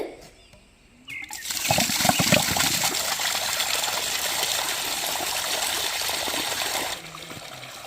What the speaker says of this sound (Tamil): கீரைக்குமே தண்ணி கட்டியாச்சு